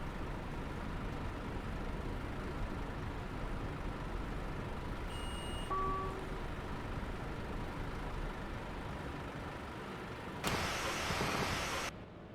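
A bus window closes with a brief whirring power-window motor sound near the end, over a steady low rumble of the idling bus and city ambience in The Bus driving simulator.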